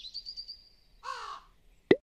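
A bird gives a single harsh crow-like caw after a thin high whistle, followed by a sharp plopping knock, each sound brief and fairly close.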